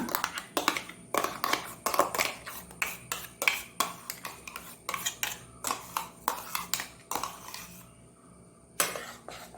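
A spoon clinks and scrapes against a bowl while steamed Nendra banana paste is stirred with jaggery, in a steady run of sharp, close knocks with a brief pause near the end.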